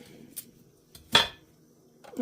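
A knife cuts a purple sweet potato into pieces: a few light clicks, then one sharp, distinct knock of the blade hitting the board, followed by a softer tap.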